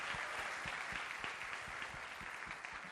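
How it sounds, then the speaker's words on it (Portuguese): Audience at a talk on chatbot accessibility giving a round of applause for the Libras sign language interpreters, a quiet, even wash of many hands clapping with individual claps standing out. "eu queria pedir uma salva de palmas para o pessoal aqui, eles estão fazendo uma tradução de Libras"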